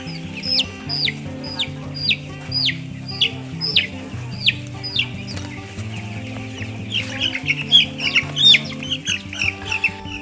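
Chickens on a school poultry farm in Sembawa cluck busily and overlap one another, close and loud, with sharp higher calls in bursts and no talking.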